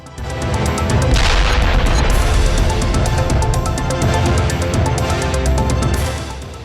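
A loud, deep explosion at the border between South Korea and North Korea, roaring and rumbling on for several seconds, heavy in the low end with scattered cracks over the top.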